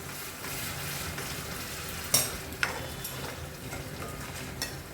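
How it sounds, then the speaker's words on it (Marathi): Water poured into a hot pot of masala for Vidarbha-style khandolichi bhaji sizzles in a steady, close frying hiss, with a couple of sharp utensil clinks against the pot. "याच भांड्यात मी थोडं पाणी मिसळून टाकते."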